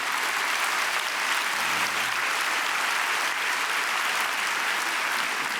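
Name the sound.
applause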